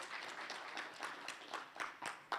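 Audience clapping at a school leadership project event, a faint, quiet patter of hands with a few sharper claps near the end.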